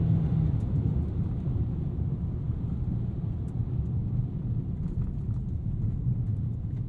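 A Ford Maverick Tremor pickup with an EcoBoost engine being driven, a steady low engine drone and road rumble heard from inside the cab, constant and fairly loud throughout.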